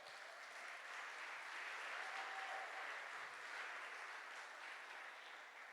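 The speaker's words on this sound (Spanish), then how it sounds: "Le damos palmas fuertes al Señor." A church congregation claps loudly and steadily in praise, a dense, sustained wash of many hands filling the room from start to finish without a break.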